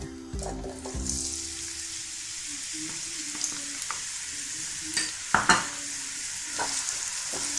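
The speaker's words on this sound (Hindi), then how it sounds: "जैसे ऑयल थोड़ा हीट अप हो, इसमें मैं ऐड कर रही हूँ प्याज।" Sliced onions frying in heated oil in a pan for a potato and pea curry give a steady close sizzle, with intermittent clinks and scrapes of a spoon stirring.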